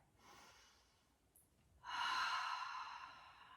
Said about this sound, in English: Big full breath.